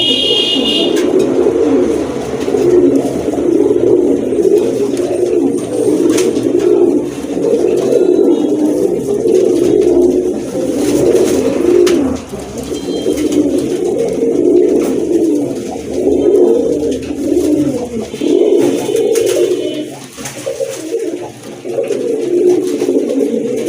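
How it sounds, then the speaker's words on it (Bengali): A pair of khaki pigeons, kept as pets or for sale, coo in soft, repeated throaty bursts throughout, close by and steady, with faint chirps now and then. "আরেক জোড়া কবুতর। এটা হচ্ছে খাকি কবুতর।"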